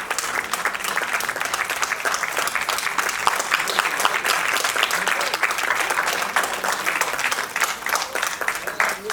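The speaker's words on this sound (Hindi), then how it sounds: "तालियां बराबर बजती हैं" Sustained audience applause at a stage event, dense steady clapping filling the whole stretch at even loudness, tapering slightly near the end.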